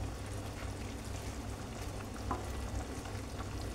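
Ridge gourd dolma simmers in gravy in a pan with a continuous soft crackle and bubbling sizzle. It is fairly quiet and even, with a few sharper pops and no voices.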